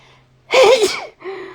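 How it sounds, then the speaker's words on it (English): A single sharp human sneeze, loud and close, starting with a quick intake of breath and then dropping away into a short breathy exhale. "Like, I just sneeze. Hold on."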